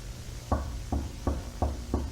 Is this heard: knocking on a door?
yes